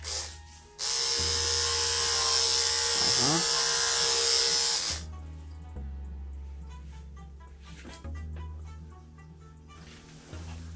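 Electric clippers trim a dog's hair, starting with a loud, steady close buzz that changes pitch as the blades meet the fur, then a lower hum with small variations, while a person talks throughout.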